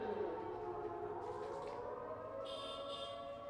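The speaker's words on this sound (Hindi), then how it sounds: "जब सहरी का ऐलान होता है तब भी यहाँ सायरन बजते हैं" A civil defense siren in Shaheen Bagh, Delhi, sounds the end of sehri during Ramzan. It is a steady, sustained wailing tone carrying from a distance, with faint higher whistles overlapping later.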